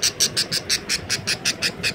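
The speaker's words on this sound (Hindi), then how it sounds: "तो ये फुल तोता है।" A parrot squawks in a fast, regular series of about a dozen harsh, raspy calls, roughly five per second, loud and close over a faint background hum.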